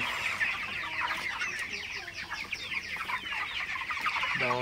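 Broiler chickens in a poultry shed, around thirty days old, cluck and chatter continuously in a busy, mid-distance chorus of overlapping calls, fairly soft and steady with no talk.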